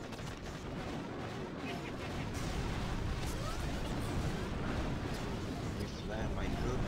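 Doom Cannon firing in the mobile game Boom Beach during a Mega Crab stage, a quiet rumbling wash of booming blasts and crackling impacts rolling on continuously under faint game noise.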